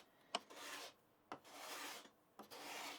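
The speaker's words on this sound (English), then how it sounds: "grab my card scraper, and these are almost powder shavings here" A card scraper shaves a Tasmanian oak straight edge at a very fine setting, producing three close, dry scraping strokes, each opening with a sharp tick and then a soft rasp, spaced by brief pauses.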